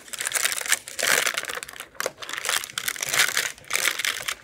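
Paper crinkling and rustling as it is handled around apple turnovers cooked in a Tefal OptiGrill, a close, dry crackle in several bursts with brief pauses between.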